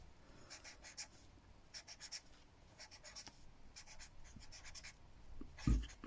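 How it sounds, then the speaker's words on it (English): A pen writes a name on a sheet of paper three times, giving close, quiet scratching strokes in short bursts with small pauses between words, and a soft thump near the end. "you write your name down on a bit of paper 3 times"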